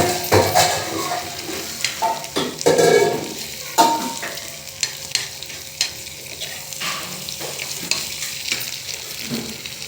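Oil sizzling and crackling in a pan with repeated spoon-stirring scrapes and clinks, as ground pepper and tomato purée go in for egg biryani; close, busy and uneven, with no talk.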